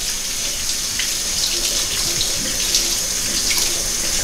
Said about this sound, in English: Just rinse them lightly in a little bit of cold water.